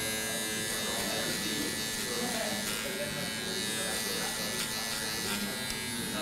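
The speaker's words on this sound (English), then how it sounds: "I've got my two guard on right now, and I'm just kind of going straight up, doing some debulking" Electric hair clippers fitted with a number two guard buzz steadily while debulking hair during a haircut, a continuous close hum with someone talking over it.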